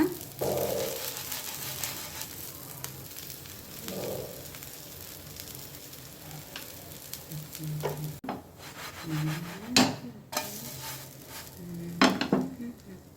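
A masala layer paratha fries in oil on a pan, giving a soft continuous sizzle broken by scraping and clinking of a utensil against the pan and a few louder knocks near the end.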